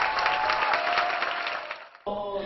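Enthusiastic applause from an audience of pastors after a choir performance at a conference: dense, sustained clapping that thins briefly near the end before picking up again.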